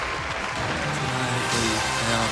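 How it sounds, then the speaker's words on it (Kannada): Audience applause for the next contestant at the grand finale of the junior dance show Dance 2 Dance Juniors, a steady broadband clatter of clapping that swells slightly toward the end, mixed with background music tones. "ನಿಮ್ಮ ಜೋರದ ಚಪ್ಪಾಳೆ ಬರಲಿ ಫಾರ್ our next contestant ಸಾನಿಧ್ಯ"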